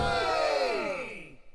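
A crowd gives a loud cheer for a chosen one in a staged musical retelling, a brief swelling chorus of voices that fades away within a second and a half.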